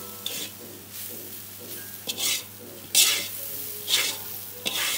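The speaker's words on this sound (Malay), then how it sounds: "Kelapa ni kita kena goreng dengan api yang perlahan sehingga kuning-kuningan." Grated coconut frying slowly over low heat in a pan, with repeated stirring scrapes and soft sizzling bursts at an uneven rhythm, close and fairly quiet with no talking.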